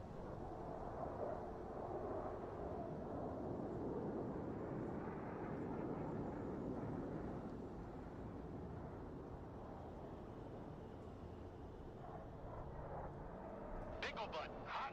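An airplane flies in the Broken Arrow video game, a broad, steady roaring drone that holds at a constant level throughout, with faint speech and a few brief crackles near the end.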